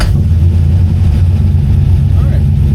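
A C6 Corvette-engined kart fitted with a titanium exhaust revs hard toward 6,000 RPM, a loud, steady, dense low-pitched roar that holds close and constant throughout.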